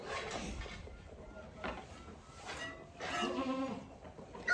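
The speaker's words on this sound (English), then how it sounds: "Got little goat kids between my legs." Young goat kids bleat several times close by on a farm, a few drawn-out wavering cries over steady background noise.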